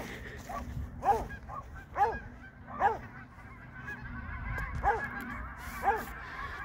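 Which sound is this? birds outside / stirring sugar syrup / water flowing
birds outside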